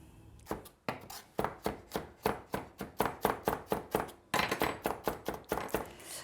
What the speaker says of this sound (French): je vais essayer de couper finement puisqu'on va avoir des morceaux vraiment dans le haché